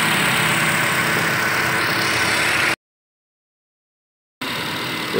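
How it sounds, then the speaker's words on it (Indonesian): A 2013 Nissan Grand Livina 1.5 SV with manual transmission idles steadily with its original muffler, a loud close hum broken by a short gap of silence before it resumes. "Untuk suara mesin normal Pak ya."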